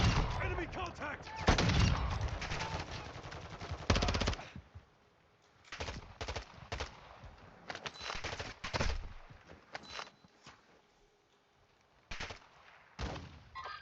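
Bursts of automatic gunfire and shots in a Call of Duty DMZ Warzone 2.0 firefight, loud near volleys in the opening seconds, then shorter intermittent bursts with gaps, under game radio voice callouts.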